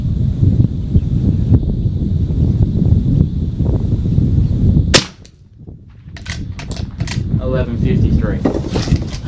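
One sharp crack from a Cooey Model 78 .22LR rifle at an outdoor range cuts through wind noise, followed by a brief hush and then rustling.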